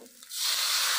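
Water is poured into a hot pan of fish curry: a short quiet pause, then a sudden loud hiss that swells and holds steady to the end.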